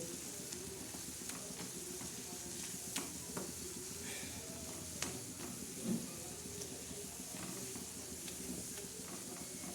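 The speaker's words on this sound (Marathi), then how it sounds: "असं पूर्ण हलवून घ्यायचं असं एकजीव करायचं" Gram flour batter with black masala is stirred, with a faint steady sizzle and soft repeated scraping strokes running throughout, quiet and close.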